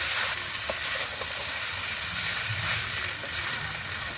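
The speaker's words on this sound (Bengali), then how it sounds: "সিমুইটাও ভালোভাবে আলুর সঙ্গে ভেজে নেব।" Boiled vermicelli frying together with potatoes in a pan, a continuous bright sizzle with a soft hiss and faint stirring scrapes, close and steady throughout.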